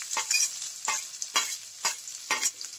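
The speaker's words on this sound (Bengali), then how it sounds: "এবার ওই তেলেই আমি কুচি করা পেঁয়াজ দিয়ে দিচ্ছি" Chopped onion goes into hot oil in a pan and fries with a soft steady sizzle, broken by several rhythmic scraping stirs from a spatula; no voices.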